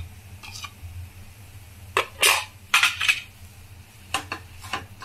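A spatula scrapes and clinks against a pan while spiced potato filling for vada pav is mixed, in a few sharp, irregular bursts with quiet gaps between.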